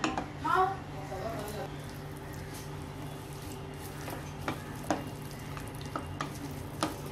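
A filling of boiled corn, chopped onion, capsicum and coriander is stirred in a bowl, producing soft scrapes and occasional clicks over a low steady hum, with a brief voice at the start.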